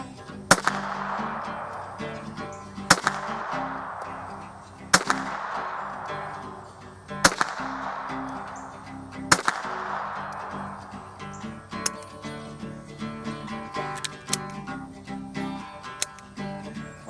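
Sharp gunshots from a Raven Arms MP-25 pistol fired at a target at 15 yards, about seven evenly spaced reports, loud and close, each cracking out over a steady background hiss with no talking.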